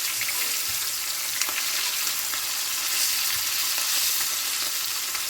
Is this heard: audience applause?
no